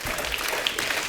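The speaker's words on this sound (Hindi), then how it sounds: "एक बार जोरदार ताली अक्षय बाजी के लिए।" A studio audience at a TV comedy show bursts into dense, loud applause for a guest, a brief, continuous wash of clapping.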